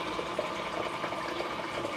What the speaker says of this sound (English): Now we have our water already flowing